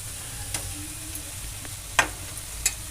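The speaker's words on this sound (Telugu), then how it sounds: "నేను మొత్తం ఇలా వేసుకొని మంచిగా కలుపుకోవాలి" A spoon stirs mashed potato filling for aloo paratha in a pan, soft scraping under a low sizzle with a few sharp clicks of utensil against metal.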